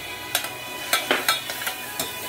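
Red chili goes into tomatoes frying in a pan for a traditional Ladakhi getuus dish, with a spoon scraping and tapping in quick irregular strokes over a soft steady sizzle, close and with no talk.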